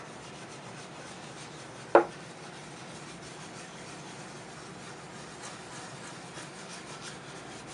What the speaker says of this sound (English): I'm gonna take some steel wool and just make sure I rub it around and get the piece nice and scuffed up